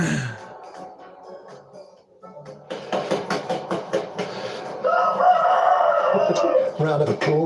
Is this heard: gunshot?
no